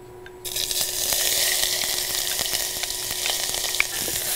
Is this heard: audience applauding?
no